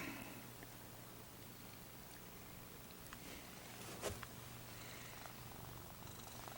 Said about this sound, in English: You hear him purr?